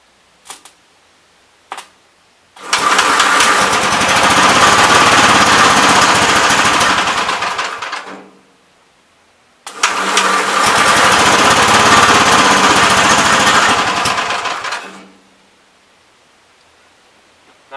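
A 1971 Gravely C walk-behind tractor engine bursts into a loud, steady roar after a couple of brief clicks, runs for about five seconds, cuts out, then restarts and runs steadily again before stopping.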